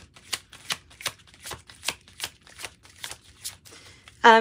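Tarot cards being shuffled by hand, about ten crisp riffling bursts in a steady rhythm, close and clear, ending with a brief louder flutter.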